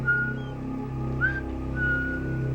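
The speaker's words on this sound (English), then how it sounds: "He leaves real casual-like, whistling his favorite tune." A man in Stepfather II whistles a casual tune, a thin melodic line of sustained notes and short rising slides, moderately close over a low background hum.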